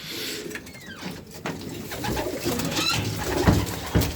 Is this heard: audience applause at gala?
no